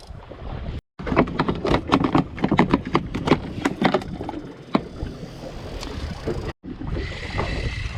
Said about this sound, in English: Well, the wind is quietening down.